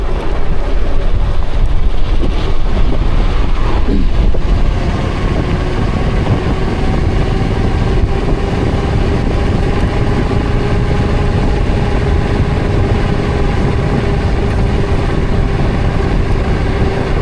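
Dual-motor vehicle accelerating hard in race mode on a night ride through a forest, a steady loud drone with rising whine tones and heavy wind rush throughout, no talking.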